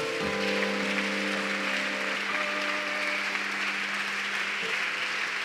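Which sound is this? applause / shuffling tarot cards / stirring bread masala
applause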